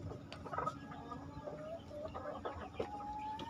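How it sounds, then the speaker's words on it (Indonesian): Two hens held in a quarantine pen give soft, intermittent clucks and short calls, fairly faint against a low, steady background with no talking. "Ini sedulur, 2 babon di karantina."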